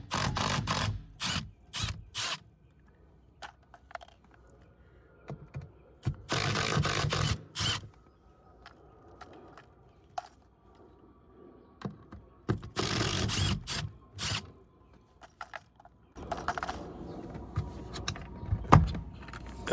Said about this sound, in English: Using a Phillips head, you can remove the 3 bolts that are holding in the motor